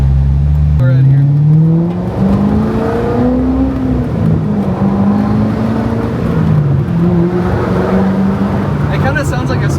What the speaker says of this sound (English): It kind of sounds like a stock Hellcat.